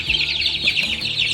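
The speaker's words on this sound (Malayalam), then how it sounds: "കോഴിക്കുഞ്ഞടാ" Farm chicks at a village farmhouse chirp in rapid, high, overlapping peeps, continuous and close, with low rustling underneath and no talking.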